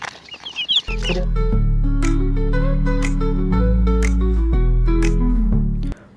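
Chickens and chicks crowd a roadside chick seller's stock, with broiler, tiger and farm breeds among them, in loud, close, continuous clucking and cheeping, layered and overlapping, after a brief scrabble of higher chirps.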